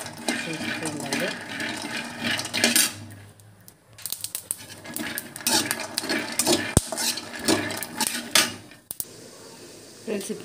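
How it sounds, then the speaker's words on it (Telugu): Peanuts dry-roasting in a pan for chutney, with steady scraping, clattering and light rattling from stirring. The sound stays close and busy, with a few sharper knocks and a brief lull partway through. "ఇక్కడ చట్నీ కోసం అయితే పల్లీలు అయితే వేయించుతూ ఉన్నాను"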